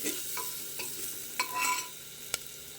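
Food frying in a pan with black pepper powder just added, stirred with a utensil: a soft continuous sizzle with a few quick scraping strokes and one sharp clink near the end, no talk.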